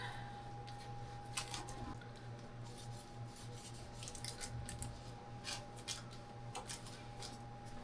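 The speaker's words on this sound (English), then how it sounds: "I'm just gonna cut it in half and then cut each half into 6 pieces" A serrated knife saws through food on a board, cutting it in half and then into pieces, with repeated short rasping strokes that are close but quiet under a faint steady hum.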